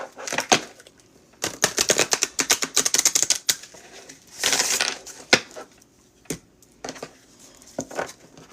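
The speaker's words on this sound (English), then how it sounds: "we're shuffling with the intention for a clear love message" A deck of tarot cards being shuffled by hand in a reading, with bursts of quick, crisp riffling and flicking, close up, broken by short pauses and scattered taps.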